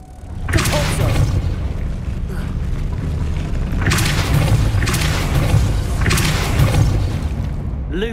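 Spell blasts cast in Hogwarts Legacy: three loud, booming whooshes with thumping impacts, spaced a few seconds apart over a continuous low rumble of game sound.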